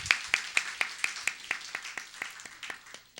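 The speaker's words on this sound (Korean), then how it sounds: "우리 키아라 자매 격려 박수 좀 드릴까요" A small church congregation claps in a steady rhythm during a Sunday service, fairly close, the beats evenly spaced and gradually thinning out.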